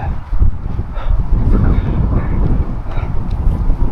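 Strong, gusty wind buffets the microphone on an open mountain savanna, a steady loud rumble with no pauses and no talk over it.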